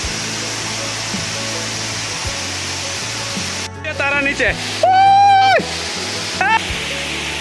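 A waterfall at Birendra Para gives a constant broadband roar, with people's voices rising briefly above the rushing water partway through.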